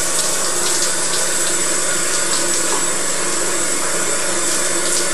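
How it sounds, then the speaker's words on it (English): Steady running tap water during a hair rinse in a no-shampoo routine, a continuous broadband splashing rush that stays even and fairly loud throughout, with no talking. "And then we're ready to rinse it out. And make sure you rinse it well."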